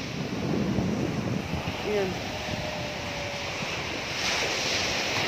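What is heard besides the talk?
strong ocean waves on an open-sea beach in Zambales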